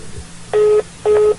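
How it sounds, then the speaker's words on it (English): Two short electronic telephone keypad beeps sound while a call sits on hold, each a steady tone about a quarter second long, close and clear with a short pause between them. "Can you hear it beeping?"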